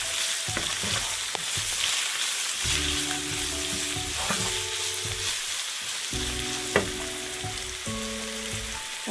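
Halved capsicum and chopped onion fry in a pan for pasta, sizzling steadily while a spoon scrapes and stirs in bursts, with some tonal ringing from the pan, close up and without speech.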